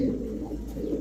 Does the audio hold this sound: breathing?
no